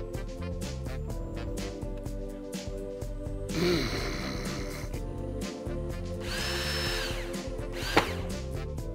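A power drill drives a screw to fix a wooden block onto a homemade one-string Diddley Bow electric guitar. It whirs in steady pitched bursts, with a louder, rougher stretch midway and a sharp squeal near the end.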